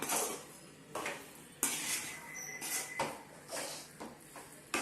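Spoon stirring cooked white rice into sautéed tomatoes in a pan for Tamil-style tomato rice, giving repeated scraping and clinking strokes against the pan at close range, moderately loud with no talking.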